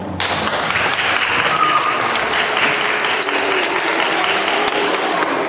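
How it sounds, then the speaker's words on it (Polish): Steady applause from an audience at a school talent show, dense and sustained for several seconds after a brief pause, filling the hall evenly without a break. "Brawa dla Państwa."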